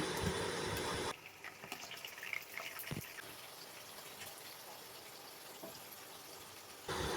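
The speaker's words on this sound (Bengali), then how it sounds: "তেলটা ভালোভাবে গরম হয়ে গেছে, এবার আলুগুলোকে দিয়ে দিচ্ছি।" Potato pieces dropped into hot white cooking oil in a kadai, setting off a continuous bright sizzling hiss with scattered pops and crackles, louder at the start and end.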